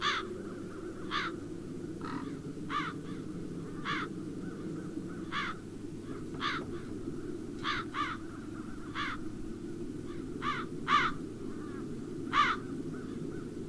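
Crows caw repeatedly in the fantasy adventure game The Dark Eye: Chains of Satinav, with sharp calls spaced about a second apart over a low ambient game backdrop.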